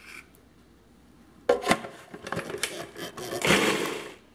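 A blender grinds tomatoes, onion and chile for a huevos rancheros sauce, starting abruptly after a quiet moment with a loud, rough whirring and churning that swells toward the end.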